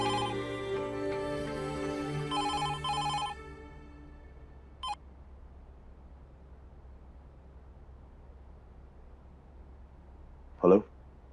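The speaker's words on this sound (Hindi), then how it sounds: "हाँ हाँ बिरजू, मैं अभी फोन लगाता हूँ" A telephone rings as a call is placed: a few bursts of ringing tone, then quiet broken by a couple of brief clicks.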